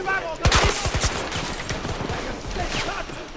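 Shotgun fire in Battlefield 2042 during a zombie mode match, a rapid burst of booming blasts followed by more scattered shots, loud and close with game noise around.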